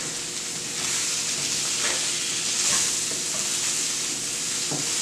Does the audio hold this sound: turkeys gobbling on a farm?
no